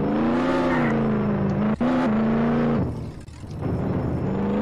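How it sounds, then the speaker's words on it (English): Racing cars in the Roblox game Jailbreak, a Lambo against a Surus, with a steady engine drone that holds pitch, dips briefly, then rises again; loud and continuous, with no talk. "today we are going to do race in Jailbreak"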